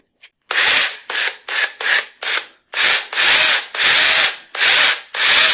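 Loud, repeated rasping bursts of a Makita cordless pruning saw cutting through wood, about ten strokes in a fairly steady rhythm, close by.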